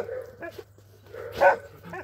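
A couple of dogs give short barks and yips close by, one sharp bark standing out over a low steady hum.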